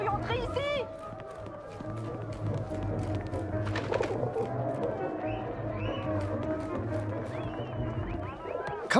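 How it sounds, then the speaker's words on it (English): A pigeon in the 11-11 Memories Retold game coos and flutters with repeated soft calls and wing sounds, mixed with game ambience while people talk throughout. "Comment un pigeon a-t-il pu entrer ici?"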